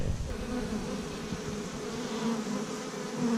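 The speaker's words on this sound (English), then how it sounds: "If you're allergic to bees, now's the time to stop being allergic to bees." Bees hum around a slightly salty desert well in the Pilbara outback, a close, continuous buzzing drone with a steady pitch that wavers a little as insects move about, heard alone without any talking.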